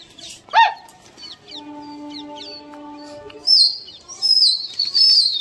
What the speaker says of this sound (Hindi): नए कबूतर सब खोल दिए सारे नए